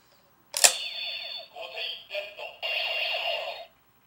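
A Gosei Red card slides into a toy Tensoder, setting off a sharp click followed by a few seconds of bright electronic chirps and tones in short bursts, close and moderately loud.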